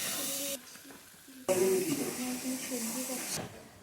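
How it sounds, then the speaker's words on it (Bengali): Fish fries in a pan in a home kitchen, a steady hissing sizzle that drops away briefly then returns loud, with people talking over it. "মাছ ভাজি করেছে আমার জন্য"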